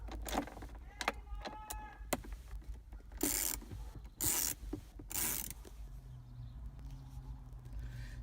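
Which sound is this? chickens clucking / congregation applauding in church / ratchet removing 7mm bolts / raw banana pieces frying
ratchet removing 7mm bolts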